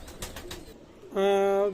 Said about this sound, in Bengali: ভাই একজোড়া আমি কবুতর দেখাচ্ছি ফকিরগুল কবুতর